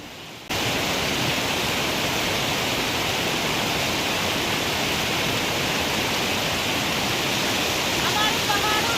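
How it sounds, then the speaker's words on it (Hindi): Mountain streams and nallahs in Sangla Valley rush with a steady, loud, unbroken roar of flowing water that starts abruptly and continues with no voices over it. "हमारे पहाड़ों में ना पानी की कोई कमी नहीं है, नदी नाले बहते रहते हैं"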